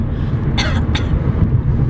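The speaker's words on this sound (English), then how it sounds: "I just need to clear my throat." A person clears their throat twice in quick succession, close and distinct, over a low steady background hum.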